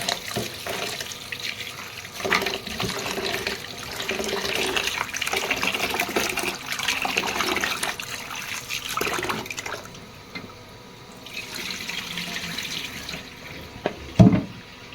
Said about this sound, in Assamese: এইটো মই ভালদৰে ধুই পেলাই অলপ সময় ভিজাই থৈ দিম।